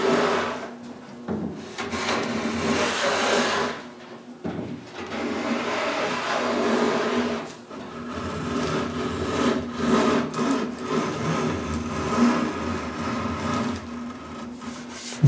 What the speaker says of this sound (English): I plane everything straight with each other.